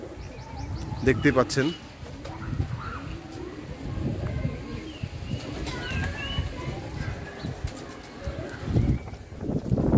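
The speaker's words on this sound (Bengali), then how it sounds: "এই যে আমার বুনা কবুতরগুলো বসে আছে দর্শকবৃন্দ" Pigeons perched at a rooftop garden loft coo softly and repeatedly nearby, with occasional chirps, while someone talks over them.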